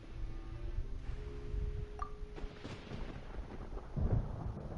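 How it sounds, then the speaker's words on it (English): Thunder in Genshin Impact, during the Sumeru storm, rolls as a broad, rumbling wash with a faint ringing clink in the middle and a heavier low swell near the end, heard alone. "Paimon hears thunder!"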